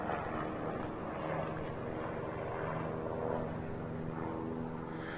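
Drop plane in Call of Duty Mobile battle royale, a steady propeller-aircraft drone that stays loud and even from start to finish, with no other sounds standing out.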